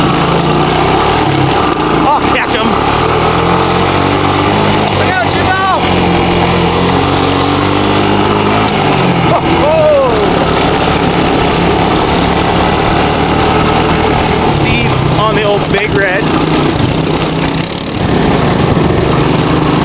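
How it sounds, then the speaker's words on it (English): Old three-wheeler trike engines running steadily in the mountains, a loud continuous buzzing drone with shifting revs throughout, close by, with voices talking over it. "On the old Trikes, as you can see."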